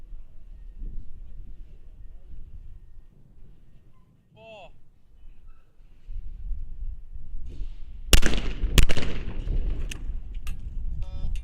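Shotguns fire at a skeet shooting final during a shooting world cup, with two sharp, loud reports a moment apart over outdoor ambience, followed by fainter cracks and a commentator speaking.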